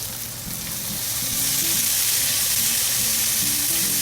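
Sweet potato, corn and beans fry in a hot pan, making a continuous loud sizzle that swells after the first second and holds steady, with low clattering underneath.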